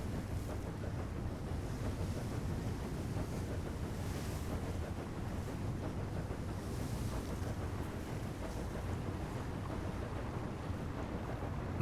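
Tugboat engines running in the ship simulator game Seafarer: The Ship Sim, a steady broadband rumble and wash of water and wind that holds unchanged throughout, with no talking.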